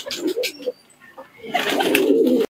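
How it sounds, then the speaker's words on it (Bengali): Teddy pigeons cooing up close in a short series of low, throaty coos, with a louder, fuller stretch of cooing and rustling toward the end. "আমার প্রতিটা কবুতর তোমাদেরকে দেখাচ্ছি।"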